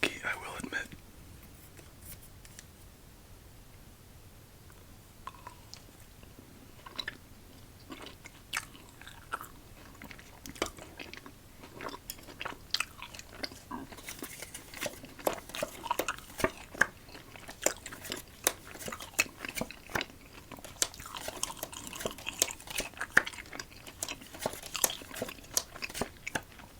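Cookie dough protein bar being eaten close to the microphone, with soft sticky chewing and crunchy bites that grow denser over time, mixed with quiet whispered talk.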